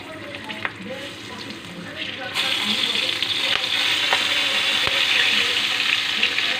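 Dried jolokia chillies and nigella seeds sizzle in hot oil in a pan for an Assamese mustard fish curry. The frying is steady and close, then swells louder partway through.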